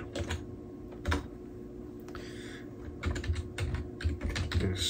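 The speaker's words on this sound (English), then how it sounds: "And type in a super secret password." A password is typed on a computer keyboard: quick, close, irregular key clicks in short bursts, a pause in the middle, then a faster run of taps toward the end, with no talking.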